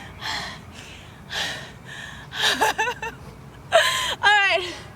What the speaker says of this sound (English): Let me catch my breath.